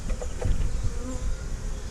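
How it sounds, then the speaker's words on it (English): Dense, droning buzz of many honey bees at an open hive box, a constant low hum close to the ear with no pauses or talk. "So many bees."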